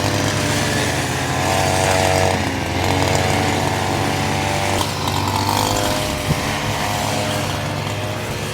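A motor cutter slices through grass and rice stalks in a paddy field. Its small engine buzzes loud and steady throughout, with slight changes in pitch as it bites into the growth.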